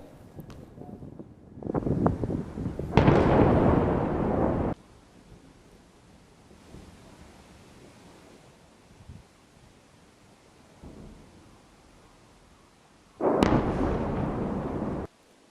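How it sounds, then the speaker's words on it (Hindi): Missile strike explosions in Kyiv, heard as a few loud bursts with rushing, wind-buffeted roars near the start and again near the end, separated by a quieter stretch of distant rumble. "मिसाइल हमलों से कीव शहर में भीषण धमाका हुआ।"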